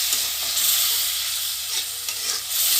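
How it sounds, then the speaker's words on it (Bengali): Gourd and potato pieces with spices fry in a pan as they are stirred, giving a continuous close bright sizzle with soft scraping strokes from the spoon. "দেখুন, আপনারা এভাবে সুন্দর করে নেড়ে নেবেন।"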